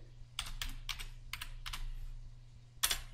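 Keys on a computer keyboard tapped in several short, quick bursts while a folder name is entered, followed by one sharper final keystroke, close and fairly quiet over a low steady hum.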